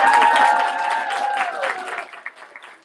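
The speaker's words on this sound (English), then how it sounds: "let's give Jenna a giant round of" Bookstore audience applauding author Jenna Voris at her book release event, a burst of clapping with cheering voices, loud at first and then thinning out to scattered claps.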